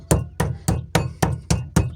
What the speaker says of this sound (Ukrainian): І трошки відбиваємо молоточком.